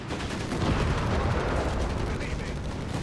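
Battle gunfire in Company of Heroes 3, an Afrika Korps versus US Forces match: a dense, steady barrage of rapid shots and crackling fire fills the whole stretch at constant loudness, with a voice faintly underneath.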